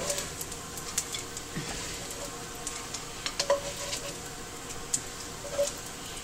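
Onions and garlic sautéing in leftover bacon fat and pan juices make a steady, soft sizzle. A few light clicks and scrapes come through as the pan is stirred, with no voices.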